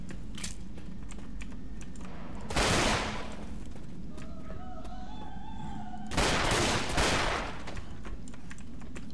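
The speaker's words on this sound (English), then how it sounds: "Let me just go with the Uzi, spit rounds" Two loud, sustained bursts of Uzi fire in Left 4 Dead 2, separated by a few seconds, over quieter game noise and clicking.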